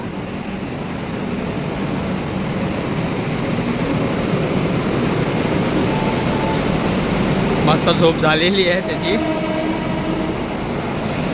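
A local train rumbles steadily along the tracks with a constant mechanical roar, while a person speaks briefly over it near the end.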